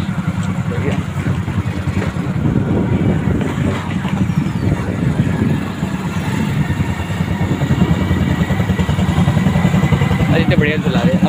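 A Hero Splendor motorcycle engine runs steadily with a low, throbbing revving tone for the whole stretch, close by, while someone talks over it giving riding instructions.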